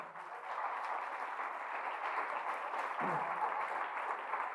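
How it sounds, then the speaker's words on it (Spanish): A church congregation claps together in praise during a sermon, a sustained, even roll of applause from many people that fills the room for several seconds. "Dale un fuerte aplauso al Señor."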